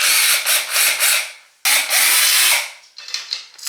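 Screws being backed out of a shower door bottom seal, with close, scratchy ratcheting and rubbing bursts in two main runs, then lighter irregular turning clicks, no talk.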